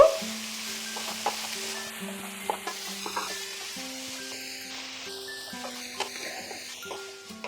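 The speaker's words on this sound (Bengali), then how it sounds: "ভালো করে মশলার সঙ্গে মিশিয়ে নেব।" A utensil scrapes and clinks in a pan as chopped ash gourd is stirred with spices, with a soft sizzle of frying underneath and irregular knocks of metal on metal throughout.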